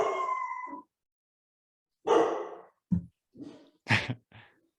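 A dog howls indoors, one drawn-out howl followed after a pause by a shorter wail and then a quick run of yips and whimpers, fairly close and clear with no talking over it.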